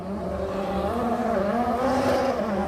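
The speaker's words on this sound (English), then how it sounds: "It sounds like a slipping clutch to me, David, or something like that. He's revving the engine, but it's not moving forward." A 2011 Lotus Formula One car, driven by Heikki Kovalainen at the Canadian Grand Prix, revving with a slipping clutch, a steady high-pitched engine whine with wavering pitch, held continuously and fairly close.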